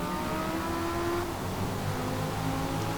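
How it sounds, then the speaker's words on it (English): A supercharged V8 race car in Forza Motorsport roars at sustained high revs with steady, droning engine tones, loud and continuous, with other cars' engines blending in around it. "Before the supercharged V8 kicks in"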